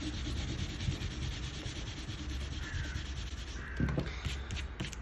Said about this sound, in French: on peut gommer notre trait de construction.